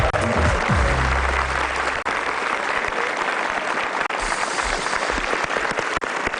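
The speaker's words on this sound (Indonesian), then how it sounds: "Tepuk tangan yang meriah." An audience at a televised inspirational talk show applauds loudly and continuously, a dense even clapping that fills the room, with a voice faintly present at the start.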